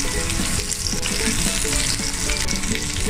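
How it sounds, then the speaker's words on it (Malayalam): Shallots and curry leaves fry in coconut oil with a steady, dense sizzle and crackle, close and fairly loud, with occasional stirring scrapes and no voices. "ദമ്മായ കപ്പയിലേക്ക് നമുക്ക് ചെറിയ ഉള്ളിയും കുറച്ച് കറിവേപ്പിലയും കൂടെ വറുത്ത് അതിലേക്കിടാം."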